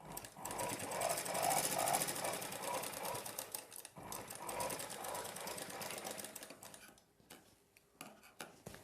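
A sewing machine runs steadily while stitching blouse fabric, whirring loud and close with a rapid mechanical chatter, pausing briefly near the middle and slowing into scattered ticks toward the end as the seam is backstitched.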